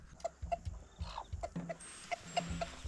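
Chickens cluck repeatedly at a small forest village of the Khmu people in Laos, short clustered calls coming at uneven intervals against faint rural background noise.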